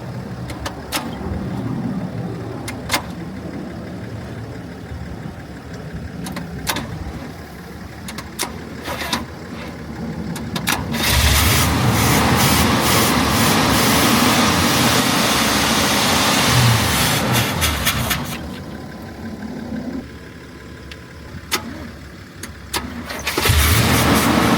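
A big block car engine that sat parked for years cranks with sharp catches, then fires and runs loudly for several seconds before dropping back to cranking and sputtering, close and alone without talk.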